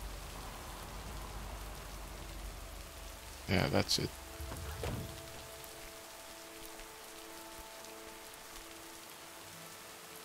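Steady rain patters softly at a lake throughout, with a brief burst of talking partway through.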